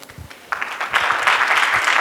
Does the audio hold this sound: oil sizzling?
no